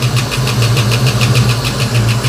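Engine of a 1989 Ford Mustang 5.0 running close by, a loud steady idle with a rapid regular ticking or knocking racket pulsing over the low rumble.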